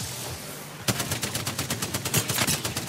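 Rapid hipfire from a Spitfire light machine gun in Apex Legends, a loud steady stream of evenly spaced shots that begins abruptly after a brief stretch of noisy ambience and keeps going without pause.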